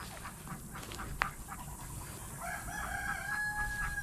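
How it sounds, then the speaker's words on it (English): A hen called Tesla with her little chicks gives soft, faint clucks and peeps in a quiet barnyard corner, with one sharp chirp early on. A sustained high call follows near the end. "Tesla still has her little chicks, and she's been keeping them over here in this corner"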